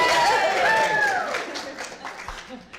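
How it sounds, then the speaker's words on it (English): A scattering of audience applause sits beneath close talking voices, fading into lighter, sparse claps toward the end. "people are getting applause"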